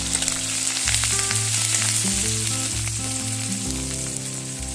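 Loud, constant sizzle of onion, garlic and green chili frying in hot oil, with a tonal hum running underneath.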